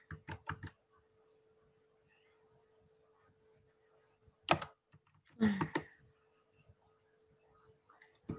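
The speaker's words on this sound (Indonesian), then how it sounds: "Langsung saja kita ketik" Bursts of keystrokes on a computer keyboard while entering a search in Microsoft Edge: a short clatter at the start, then two more clusters of taps after a quiet stretch, fairly faint against a steady low hum.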